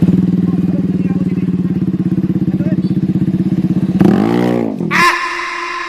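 An automatic scooter fitted with a loud aftermarket brong exhaust idles with a rapid, throbbing burble, then is revved hard in short bursts near the end, close and very loud.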